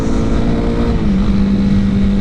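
A Honda CB 300R motorcycle engine drones loudly and steadily under acceleration, its pitch rising slightly partway through, with heavy wind rush at riding speed.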